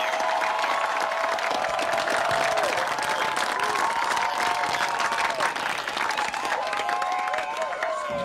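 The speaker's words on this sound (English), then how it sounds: "let's get a cheer from the audience" A studio audience cheers and applauds on a live talk show, dense continuous clapping with whoops and shouts held at a steady loud level throughout.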